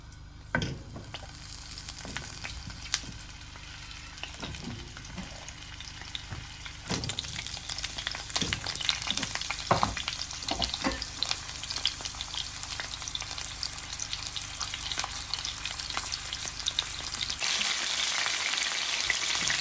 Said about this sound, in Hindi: आंच हल्की रखनी है और हल्के हल्के आंच से फ्राई करते रहेंगे।